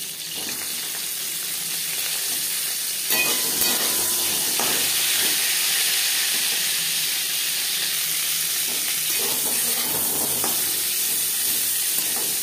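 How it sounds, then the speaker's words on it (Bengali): Vegetables for a vegetarian rice-and-lentil khichuri sizzle and crackle steadily as they fry in a separate wok, with faint scraping of a stirring spoon now and then, close and continuous with no talk. "অন্য একটি কড়াইতে"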